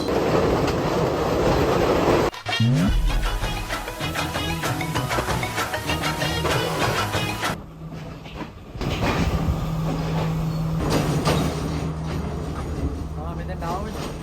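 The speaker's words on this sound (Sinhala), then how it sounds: "අපි දැන් ඉන්නේ Great Western Railway Station එක ස්ටේෂන් එකේ." A train at Great Western railway station in Sri Lanka's hill country rolls close by with a loud, steady rumble and clickety-clack, a brief rising squeal early on and a short lull midway, while people's voices carry underneath.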